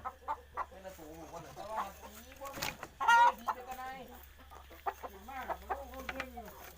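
Fighting rooster breeding cocks cluck and call in repeated bursts, with one louder crowing cry partway through, close by and fairly loud over a quiet background.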